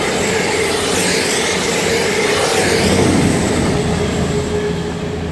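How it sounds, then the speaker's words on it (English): Two freight trains pass each other at close range, a steady loud roar of rolling wagons with faint metallic squeals riding over it. "when the freight trains pass each other"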